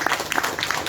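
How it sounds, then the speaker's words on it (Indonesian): Applause breaks out for the puppeteer Ki Dalang Sigit Ariyanto at a cultural talk event, a short, moderately loud burst of crowd clapping that lasts under a second. "Tepuk tangan untuk Ki Dalang Sigit Ariyanto."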